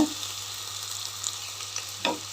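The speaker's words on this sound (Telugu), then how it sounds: "దీన్ని బాగా కలిసేలాగా కలుపుదాము వేగాలి అని కాదు కానీ వేగాలి బాగా వేగాలి" Thinly sliced onions fry in ghee, giving a steady, soft sizzle with faint scraping as they are stirred, heard alone at a low, even level.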